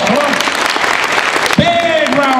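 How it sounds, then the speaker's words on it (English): Applause from a high school audience at Clear Lake High School during an anti-bullying event, with voices and a brief whoop rising over the clapping. "Big round of applause."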